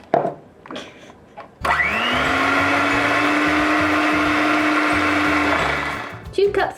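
An electric mixer beats butter, sugar and eggs into cookie dough at home, starting abruptly and running as a loud, steady whine for about four seconds before cutting out, with faint sounds before and after.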